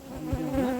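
Honeybees buzzing around an opened hive during a honey harvest, a close, dense drone of many bees with shifting pitch.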